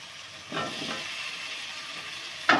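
Fried potatoes tipped into cooked spice masala in a pan for a bhetki fish-bone curry set off a low sizzle that swells after a soft clatter, followed near the end by a sharp scrape or thud of stirring.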